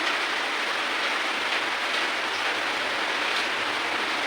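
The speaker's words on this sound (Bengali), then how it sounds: "দেখো মুসল ধারে বৃষ্টি নেমেছে" A torrential downpour of rain roars as a dense, unbroken wash of noise, loud and constant throughout with no other sounds standing out.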